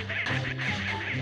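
A duck quacks in Roblox Survive the Disasters 2, giving a quick run of nasal, buzzy quacks that sound close and fairly loud with no talking.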